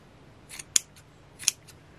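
Scissors snip loose strands on a Valentine's Day strainer decoration: two crisp, close, quiet cuts about a second apart, with faint rustling before each.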